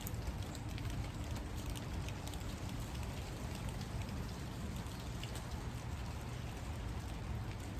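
Light rain falling outdoors at 5 pm while a breeze picks up, a steady, dense patter of drops on surfaces that continues without a break and with no voices.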